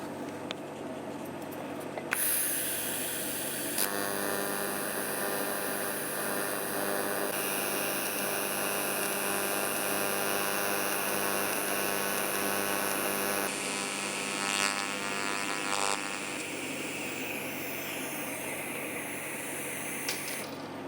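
A TIG welding torch running with too much current during purge welding gives a loud, steady broadband hiss and buzz with a faint hum underneath, holding continuously for about twenty seconds with no talking.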